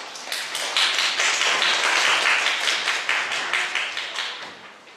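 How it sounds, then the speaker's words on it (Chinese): Enthusiastic audience applause at a school music recital, many hands clapping densely and steadily for the full five seconds, fairly loud and close, with no voices over it. "给热烈的掌声"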